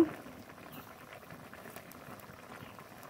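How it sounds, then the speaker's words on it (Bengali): Chorchori, a Bengali vegetable dish of potato and stalks, bubbles in a pan with a steady soft patter of boiling, close and moderately quiet, no voices. "চচ্চড়িতে খুব ভালোভাবে জাল উঠে গেছে।"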